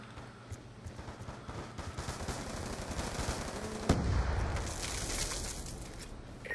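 Gunfire in a video game rattles on nearly nonstop in a dense, crackling stream of rapid shots, with one sharper blast near the middle and no talking over it.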